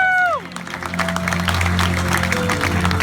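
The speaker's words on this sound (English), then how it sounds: "give me a big round of applause" A studio audience claps and cheers for a few seconds at a comedy show, starting right after a descending musical sting, with a low steady hum underneath.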